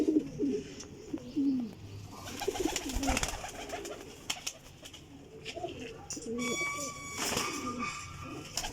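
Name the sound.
flying pigeons cooing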